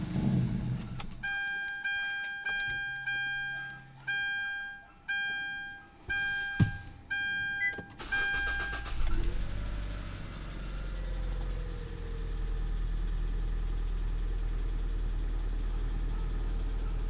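2013 Kia Soul after a crankshaft position sensor replacement: a repeating dashboard warning chime sounds first, then the starter cranks, the engine catches and settles into a steady, even idle that carries on to the end.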